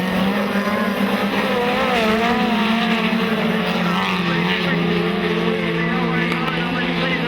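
A speedcar at a night race at Maryborough Speedway accelerates hard, its loud, steady engine tone rising and wavering across the whole stretch, while a commentator talks over it.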